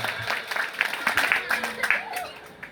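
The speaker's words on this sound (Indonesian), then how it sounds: "tepuk tangan." Scattered clapping from a small group of people at a traditional Nias naming ceremony, uneven and fairly close, with voices mixed in beneath it.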